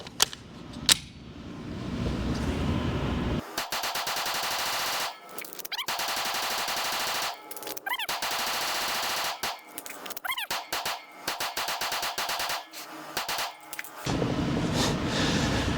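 A PSA Dagger Full Size S pistol fires during a 1,000-round test, with rapid strings of loud, sharp shots in bursts separated by short pauses and a few metallic clinks.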